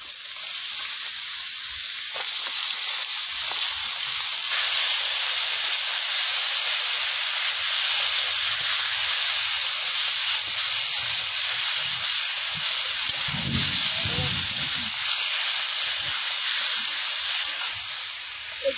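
Steady, loud hissing sizzle of potatoes and ridge gourd frying in a hot pan, continuous throughout, with a faint low thump near the end.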